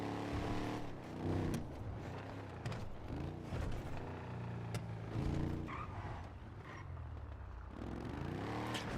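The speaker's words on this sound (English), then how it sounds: "the engine on this sounds really weird" A car engine in the GTA 5 video game revs up and down unevenly, its tone sweeping and wavering as it switches back and forth, loud and continuous.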